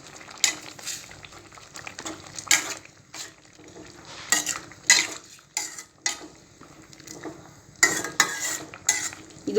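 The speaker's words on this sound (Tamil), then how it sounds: "இதை நல்லா மிக்ஸ் பண்ணிக்கலாம்." A spoon scrapes and knocks around a pot of tamarind curry with bitter gourd, several sharp clinks and stirring strokes spread irregularly over the stretch, fairly close, with no talking.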